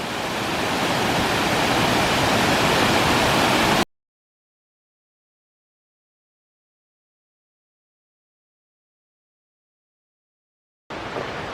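Dark Hollow Falls in Shenandoah National Park sends up a loud, steady roar of rushing water that cuts off to total silence, then briefly returns at the end.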